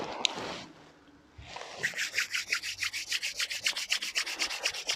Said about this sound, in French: On va venir frotter les mains ensemble.